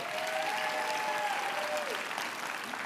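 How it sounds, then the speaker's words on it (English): Live audience applause at an in-person tech conference, steady clapping throughout at moderate loudness, with a faint voice or tone gliding beneath it. "Let's give a round of applause to Kyle"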